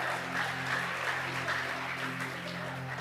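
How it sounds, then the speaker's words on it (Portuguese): A church congregation applauds during a lively evening service, a steady, moderately distant wash of many hands clapping together over a low sustained hum. "aplauda a presença de Deus."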